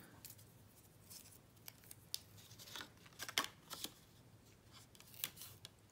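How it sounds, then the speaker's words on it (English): Double-sided tape is torn and pressed onto the flaps of a paper pocket on a Christmas card, making faint, close crackles and short ripping rasps spread irregularly over quiet. "So I'm going to use double-sided tape."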